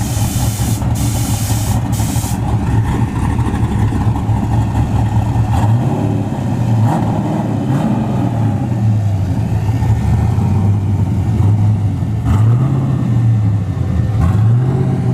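A nitrous Camaro at a drag strip spins its tires, engine droning loud and steady with rising and falling revs, a hissing rush on top and sharp bursts near the start.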